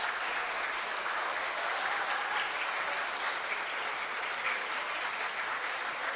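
A youth conference audience breaks into steady, sustained applause, a dense wash of many hands clapping that holds at an even level throughout, with no voices rising above it.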